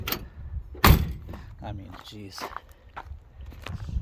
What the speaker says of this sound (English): Doors just shut so good on this.